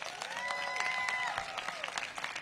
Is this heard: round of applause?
yes